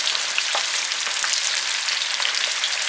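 Crispy chicken cutlets frying in oil in a pan, a loud dense continuous sizzle with fine crackles throughout, heard close with no voices.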